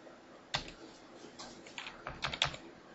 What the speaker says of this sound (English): I'm going to press the 4, the 5, the 6, and then down here I'm going to press the 1